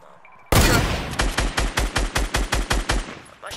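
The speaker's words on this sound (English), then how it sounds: "My shots are just going through him." Automatic weapon fire in a video game shooter: after a sharp opening burst, a steady run of about a dozen evenly spaced, loud, close shots, with no talk over them.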